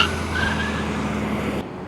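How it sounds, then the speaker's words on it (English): An Inmotion RS Jet 50 mph electric scooter brakes hard in an emergency stop, its tires giving a steady scraping skid that holds for under two seconds and then cuts off abruptly. "That would be considered an emergency brake."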